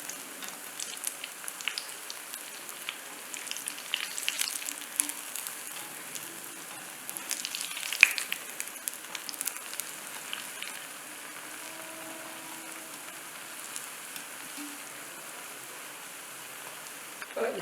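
Vadas deep-frying in hot oil for a Maha Shivaratri prasadam, a continuous close crackling sizzle with scattered pops throughout, steady and moderately loud.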